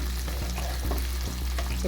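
Codfish stirred into seasonings in a hot frying pan for Jamaican ackee and saltfish, a steady close sizzle with periodic scraping strokes of the spoon about every half second.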